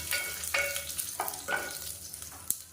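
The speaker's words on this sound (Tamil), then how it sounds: "இது எல்லாமே நல்லா பொரியட்டும்." Cloves, curry leaves and fennel seeds frying in hot oil for a tomato rasam, a steady close sizzle with periodic stirring scrapes, no talking.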